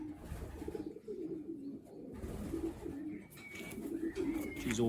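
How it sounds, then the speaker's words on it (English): Racing pigeons cooing softly in a basket, repeated low rolling coos from several birds close by, with faint rustling and a few brief higher chirps toward the end. "She's a smaller pigeon, nice racy pigeon."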